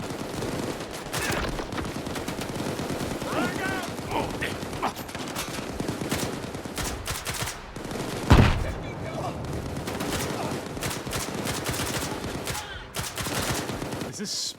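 Rapid gunfire bursts crackle through a firefight in STALKER 2 Heart of Chornobyl, dense volleys running almost continuously with one heavy close blast midway, spoken voices surfacing beneath the shooting.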